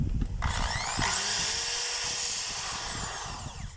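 A DeWalt DWD024 hammer drill runs loud and close, first in reverse and then forward, with a whirring motor whine that holds steady for about three seconds before winding down.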